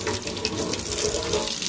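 Tap water runs steadily over a makeup brush being rinsed clean in a sink, a close, continuous splashing gush.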